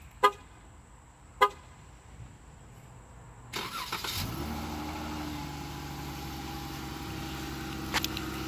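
A 2015 Dodge Charger starts by remote: a couple of sharp chirps, then the engine cranks and catches around the midpoint and settles into a steady, fairly close idle hum, with a few faint clicks near the end.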